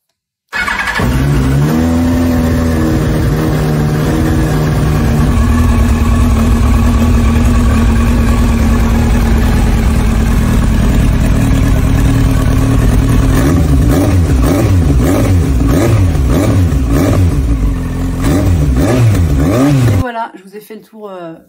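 A 1998 Yamaha R1 motorcycle engine cranks and fires up, then idles and revs repeatedly, loud and close for about twenty seconds before cutting off.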